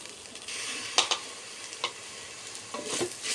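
Onions, ginger paste, mint and curry leaves stirred in a frying pan for seera rice, with a soft continuous sizzle and scattered spoon scrapes and taps, fairly quiet.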